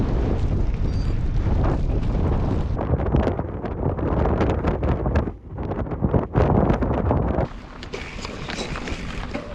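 Strong wind roars against the microphone while cycling a Silk Road route in Kyrgyzstan, loud buffeting gusts rising and dropping with a short lull midway.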